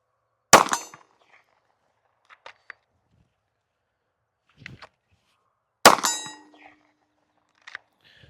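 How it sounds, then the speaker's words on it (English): Two sharp handgun shots fired at a shooting range several seconds apart, each loud and close with a ringing decay, followed by faint clicks and rustles in between. "We're gonna get some rounds down range."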